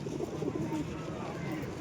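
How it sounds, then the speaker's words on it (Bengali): A male Kalanka pigeon coos softly in low, rolling phrases against a faint steady background hum at a pigeon market. "কালাঙ্কা নর পায়রা ভালো সাইজের"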